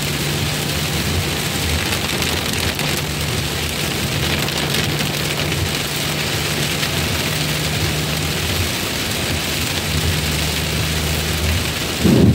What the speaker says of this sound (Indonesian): disambut dengan hujan yang begitu deras